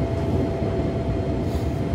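A KRL electric commuter train bound for Nambo rumbles steadily at a station with a constant low mechanical drone, no voices, the hum of a stopped or slowly moving train.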